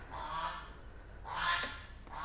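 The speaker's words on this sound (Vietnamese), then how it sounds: "Mấy ngỗng này." Geese honking at a garden plant nursery, two faint honks a second apart somewhere off at a distance against quiet background noise.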